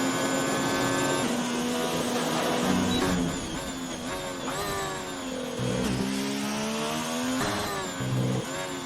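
Race car in an F1 video game lapping a circuit, the engine whining and rising through gears with repeated upshifts and brief dips, loud and close throughout.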